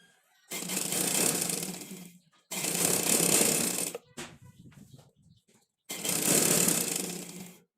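An electric sewing machine stitches the side seam of a printed lawn frock in three sustained whirring runs, each about one and a half seconds long, separated by short pauses and a brief fabric rustle.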